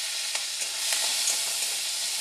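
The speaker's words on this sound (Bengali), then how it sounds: "এবার চিংড়ি মাছটাকে আমি ভেজে নেব" Shrimp coated in salt and turmeric fry in a little mustard oil over medium flame, a steady close broadband sizzle with a few soft clinks of stirring, no voices.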